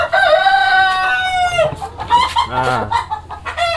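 Pelung and Lihnan chickens on a poultry farm: a rooster's long crow opens close and loud, followed by choppy clucks and shorter calls, with someone speaking briefly.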